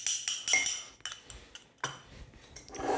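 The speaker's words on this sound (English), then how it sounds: "then I'll give that a mix about" Stir fry sauce with corn flour and chili flakes being mixed in a container, with a utensil clinking and scraping against the sides in irregular taps and rattles, close and moderately loud.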